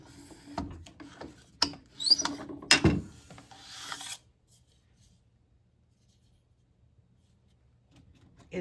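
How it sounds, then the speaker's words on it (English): A CSG notching machine works on a roll-formed screen frame, giving several close metallic clunks, clicks and a brief scraping rasp over about four seconds before falling quiet. "This is the CSG Notching Machine. It's designed to install the notch or lamps into roll form screen"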